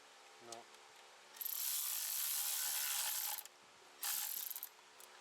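Ratchet wrench clicking in two bursts while tightening valve cover bolts on a BMW N55 engine, close and fairly loud, with brief mechanical sounds between.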